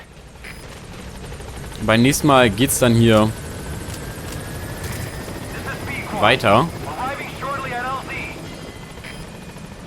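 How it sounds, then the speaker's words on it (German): In Metal Gear Solid 5, a called-in helicopter thrums steadily in the background of the game while someone talks over it in bursts. "Rufen wir uns den Heli."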